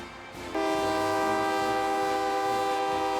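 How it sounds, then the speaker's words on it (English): A sustained train horn sound effect blares loud and steady after a brief lead-in, its bright harmonic tones holding to the end with no talk over it. "Do we still have the train sound effect?"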